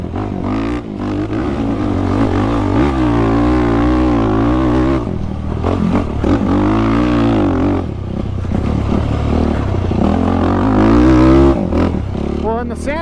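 A quad ATV on Obor Advent tires rides through sand, its engine droning loud and close with a steady growl that dips and surges as the throttle comes off and back on.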